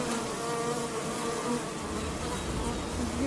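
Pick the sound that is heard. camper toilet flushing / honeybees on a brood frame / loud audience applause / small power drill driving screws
honeybees on a brood frame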